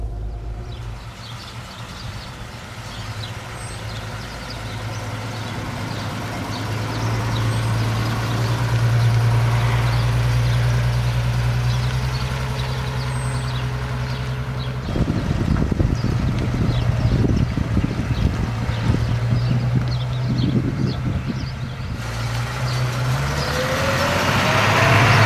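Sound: 1955 Mercedes 300 b Cabriolet D engine running while driving off

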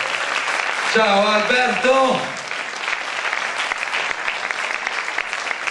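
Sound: audience applause welcoming Albert One

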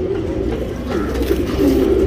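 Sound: pigeon cooing, Surmai Pilanka male tournament pigeon

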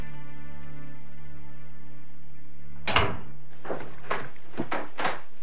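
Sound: door being closed

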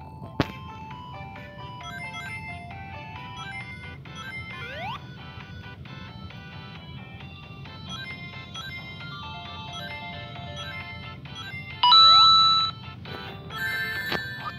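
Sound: phone notification sound

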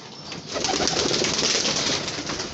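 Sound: pigeons coming out

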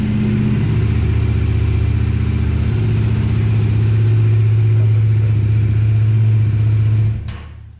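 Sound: Bajaj Dominar 400 motorcycle engine starting and running

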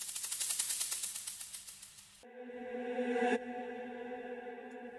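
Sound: electronic transition sound effects from Ambiente sample pack

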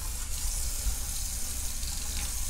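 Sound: kitchen sink faucet running hot and cold water

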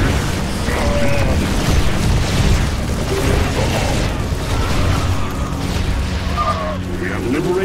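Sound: cannon fire explosions in StarCraft 2 video game

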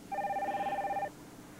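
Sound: telephone ringing

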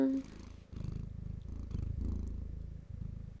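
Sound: cat purring

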